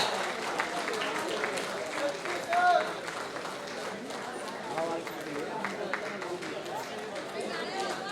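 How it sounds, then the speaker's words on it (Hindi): An audience at an agro farming seminar claps in sustained applause, a dense patter of many hands mixed with crowd chatter and voices. "तालियां रुकनी नहीं चाहिए, बजती रहनी चाहिए"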